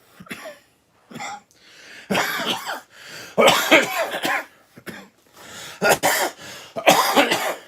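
A person coughs repeatedly in harsh, close bursts with short pauses between fits.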